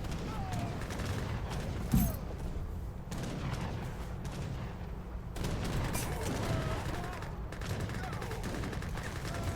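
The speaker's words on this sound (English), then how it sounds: "Gatling guns firing away" Gatling guns fire in an Age of Empires 3 three-versus-three match, a dense continuous rattle of gunfire and battle noise running under the whole stretch.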